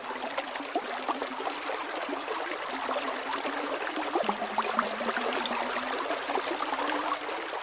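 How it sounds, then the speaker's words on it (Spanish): A stream murmurs in a steady, continuous wash of trickling and gurgling water that stays even throughout, with no voices. "escuché el rumor de un arroyo"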